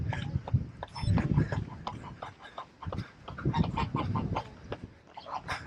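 Geese honk and cluck beside Seokchon Lake on an early summer morning, a busy overlapping flock of short calls close by over steady outdoor background noise.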